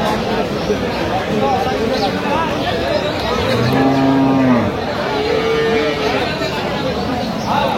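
Cows and calves mooing at a busy cattle market, the Aftabganj haat, with one long low moo mid-clip and another fainter one after, over constant crowd babble and talk.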